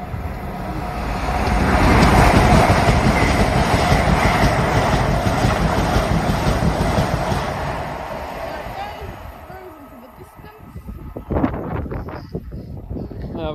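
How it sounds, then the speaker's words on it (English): A Class 802 IET train passes through Ealing Broadway station, a loud sustained rumble and clatter that builds and then fades away, with people talking nearby. "we see the 802, the IET unit"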